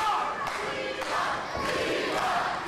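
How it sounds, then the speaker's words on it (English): Wrestling crowd at an NWA World Tag Team Championship match between America's Most Wanted and Team 3D, loud sustained rhythmic chanting for Devon filling the arena, steady throughout with rising swells. "Devon chants break out."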